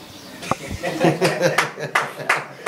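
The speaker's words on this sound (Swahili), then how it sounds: "Makofi kwa Champagne" A small audience clapping after an interview, scattered sharp claps arriving irregularly over a few seconds with some chuckling and talk in the background.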